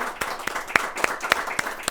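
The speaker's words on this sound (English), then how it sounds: "A round of applause for Usman Faruqi." Applause for performer Usman Faruqi as a few hands clap in a loose, sparse rhythm, each clap sharp and close over a thin bed of crowd noise.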